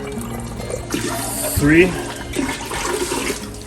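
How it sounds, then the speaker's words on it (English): Cold water pours and splashes into a pot of pickle brine that was just heated and whisked, a short gush of running liquid under a voice counting. "Now we'll start the process of adding cold water."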